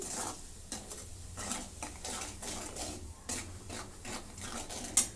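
A spoon works chili powder, salt, turmeric and amchur into a mixed pickle, with repeated close scraping and rubbing strokes in a steady rhythm and no talking.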